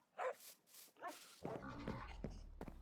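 Dogs in the video game Minecraft: a few short barks and whimpers in quick succession, then a low steady hum with more yips over it, close and fairly quiet.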